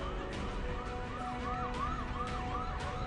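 An ambulance reaches the central hospital at the Mahakumbh 2025 fair grounds during a stampede night, its siren wailing steadily over rumbling traffic.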